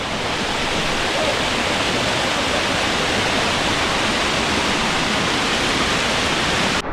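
Waterfall in the lush jungle of East Java, Indonesia, roaring as a steady, loud, dense rush of falling water that holds constant throughout without any talk.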